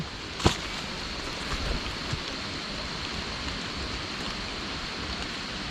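Steady rain falling on a surface, a constant hiss of drops with one sharp tap near the start.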